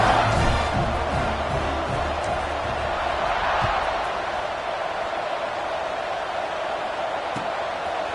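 Big college football stadium crowd at Tulane roaring before a kickoff after an extra point, a broad continuous wash of cheering that swells early and then holds steady, heard from within the stands.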